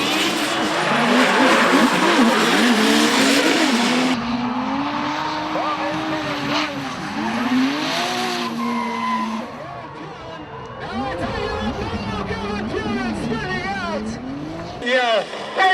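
A drift car at a drifting competition losing traction, its tires squealing and skidding in wavering, pitch-bending howls while the engine revs and surges, heard under continuous commentator talk.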